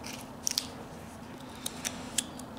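Basswood trimmed with a blade while carving a cardinal figure, a few short crisp snipping cuts close by at a steady moderate level, no voices.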